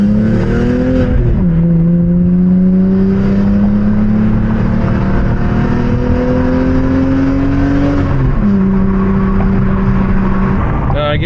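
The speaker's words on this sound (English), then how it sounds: "We'll listen to the car a little bit." A car driving and accelerating in the rain, engine tone climbing through gear shifts with audible drops between rising pulls, loud and close from inside the cabin, over a steady wash of road and rain noise.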